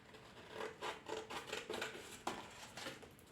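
Paper is cut out with scissors in close, quiet snips, a string of short crisp cuts with a brief pause and a sharper snip near the end.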